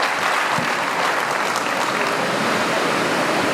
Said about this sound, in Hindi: सालिक यादव जी जोरदार ताली बजा के इनका स्वागत करिए